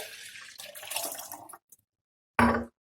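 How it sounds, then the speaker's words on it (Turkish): Water is poured from a one-litre measure into a container at home, a splashing gurgle for about a second and a half that stops, followed by a short clunk or splash. "Önce 1 litre suyumu koyuyorum."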